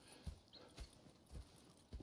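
Horses' hooves clip-clop in Red Dead Redemption 2, with distinct thuds falling at a steady walking rhythm about every half second, fairly close and moderately loud, with no talk.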